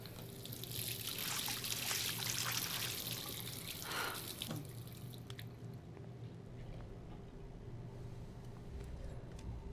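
Water running from a bathroom sink faucet in the game Life is Strange, a steady hissing trickle with dripping, loud at first and then cut off halfway, leaving a quiet background hum.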